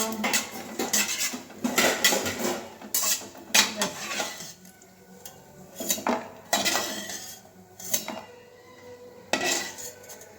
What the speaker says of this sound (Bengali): ঘি গরম হয়ে গেছে আমি কাজু কিশমিশগুলো দিয়ে দিলাম এগুলো হালকা ভাজবো বেশি ভাজবো না